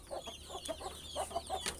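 Chickens, including a brooding hen with chicks, cluck in a quick run of short, soft calls close by, repeating in an uneven rhythm.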